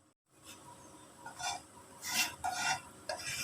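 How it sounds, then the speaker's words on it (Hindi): A spoon stirs salt into a small amount of ghee for popcorn, giving a few faint scraping, rubbing strokes against the pot that come in short, uneven bursts in a quiet kitchen. "नमक को घी के अंदर मिक्स कर लें।"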